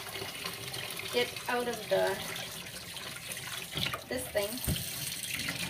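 Cold tap water running into a sink while a Sphynx hairless cat is bathed, a steady splashing stream with shifting gurgles, and a person speaks briefly over it.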